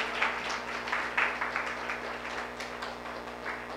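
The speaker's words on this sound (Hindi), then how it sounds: "तो ये सभी के लिए फिर से जोर से तालियां बजा सकते हैं।" A seminar audience claps together in a sustained round of applause that holds steady for several seconds with dense, uneven bursts of hand claps.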